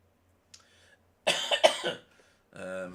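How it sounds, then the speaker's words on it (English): A couple of harsh, chesty coughs from a commentator with a chest infection, close to the mic, followed by a brief throat-clearing rasp after a short pause. "Sorry for all the coughing again, folks."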